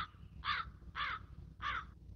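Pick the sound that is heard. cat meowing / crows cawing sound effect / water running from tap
crows cawing sound effect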